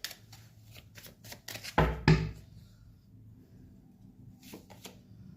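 Tarot cards are drawn and handled nearby with soft shuffles, flicks and slaps, including a louder burst of riffling in the middle.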